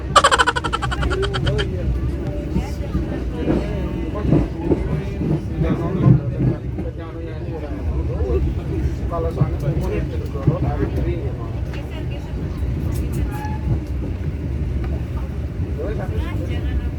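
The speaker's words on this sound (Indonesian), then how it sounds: "lucu juga ya suara di kereta api. Kayak ada suara bebek dan angsa. Kadang juga ada suara drum." Steady rumble and rattle inside the Airlangga passenger train travelling from Surabaya to Semarang at speed, a continuous low drone with occasional knocks and squeals.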